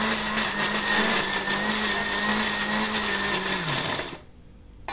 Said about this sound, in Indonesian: Di blender sampai halus.